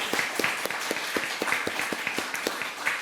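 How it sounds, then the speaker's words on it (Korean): A church congregation claps together in thanks, a loud, rhythmic run of hand claps at a steady beat throughout. "이런 은혜를 주신 하나님 앞에 힘차게 감사함으로 박수로 영광 드리도록 하겠습니다."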